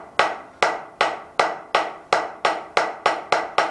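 Drumsticks strike a hard practice surface, with no drum set, in ten evenly spaced, sharp taps at a steady moderate pace, close and clear with quick decays.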